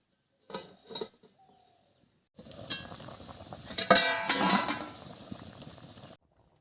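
Potatoes and cauliflower cooking with dal in water in a pan covered with a plate, giving a steady sizzling, bubbling hiss after a quiet start, with a brief louder clatter midway and no talking.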